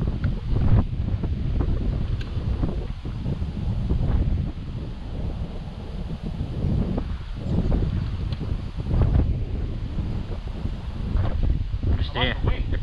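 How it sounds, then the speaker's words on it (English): Steady wind buffets the microphone outdoors on the water while fishing for redfin perch, a continuous rumbling roar that rises and falls throughout with faint background sounds. "Love the wind."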